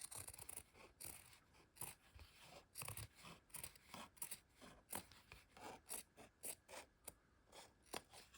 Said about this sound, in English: So I just carefully cut the fabric off here.